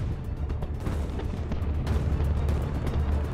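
Napoleonic-era artillery cannon fire in a battle recreation, a dense rumbling barrage of overlapping booms and bursts that builds steadily, with no voices.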